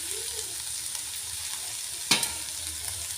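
Broad beans poriyal frying in a pan gives a steady soft sizzle, and a brief scrape of a stir cuts through it once near the end.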